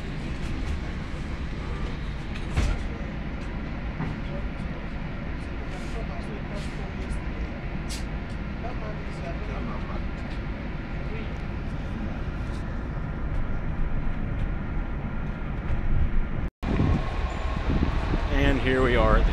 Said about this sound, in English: A typical day on a Washington Metro train.